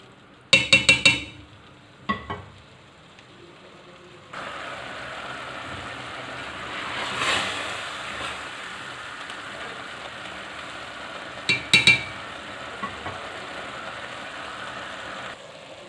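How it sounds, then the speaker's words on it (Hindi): Mutton keema frying in a pan, opening with a few sharp metallic clinks of a spoon against the pan, then a steady sizzle with occasional stirring scrapes and more clinks. "कीमे को हम 5-6 मिनट के लिए इसके अंदर अच्छी तरह से फ्राई करेंगे"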